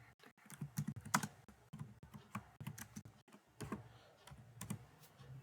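Fast, irregular clicking keystrokes on a computer keyboard as code is typed, close-up and fairly quiet, in uneven bursts with brief pauses and no talking.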